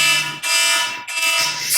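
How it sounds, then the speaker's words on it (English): A loud, continuous electronic phone alarm beeps in a steady tone, briefly dipping twice before sounding again, close and dominant in a room during a podcast conversation. "No, that's a alarm."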